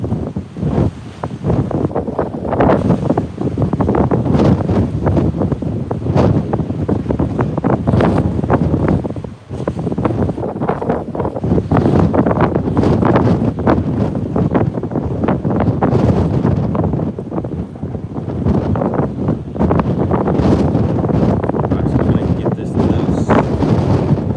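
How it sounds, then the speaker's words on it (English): Strong tropical-storm wind battering the microphone on the Gulf of Mexico shore while fishing, a loud, constant roaring rumble with gusty swells, with surf and a voice partly buried beneath it. "are you able to hear me, or is the wind still too strong?"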